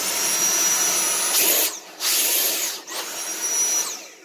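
A Ryobi cordless vacuum cleaner runs at max speed, a loud, close, steady whine with a high-pitched tone that briefly dips twice as the motor load changes.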